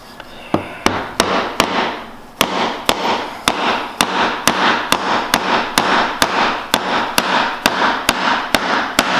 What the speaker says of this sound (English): So now we have to make some light cuts, try and keep the chisel from diving in this hard wood